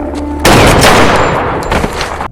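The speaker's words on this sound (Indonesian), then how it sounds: "Paman Jeb datang di waktu yang tepat lalu melumpuhkan Seeker itu dengan sebuah tembakan bersarang tepat di bahunya" Gunshot in a film scene, a single sharp loud blast that erupts suddenly and then rings and rumbles away over the next two seconds.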